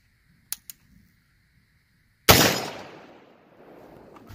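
A single sharp, loud gunshot from a 10.3 inch AK in 7.62x39 firing 123 grain Hornady SST rounds into ballistic gel, with a long decaying echo after it and two faint clicks before.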